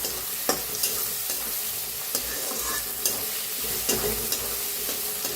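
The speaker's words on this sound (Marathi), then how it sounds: "कांदा छान भाजलाय त्याच्यात टमाटो बी टाकून घेतले ते छान असं भाजून घेऊया" Onion and tomato frying in a pan for a village-style cluster bean curry, a close steady sizzle broken by regular scraping clacks of a spatula stirring, with no talk.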